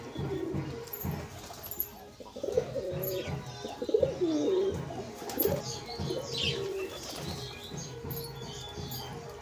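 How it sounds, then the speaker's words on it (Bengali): Pigeons coo repeatedly at moderate distance while feeding on leftover food, soft rolling calls overlapping with light pecking patter and faint background noise. "পায়রাকে দিয়ে দিই, সব খেয়ে নেয়।"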